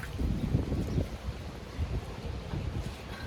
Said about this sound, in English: the wind is like crazy